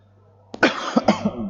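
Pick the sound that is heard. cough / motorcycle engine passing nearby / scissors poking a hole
cough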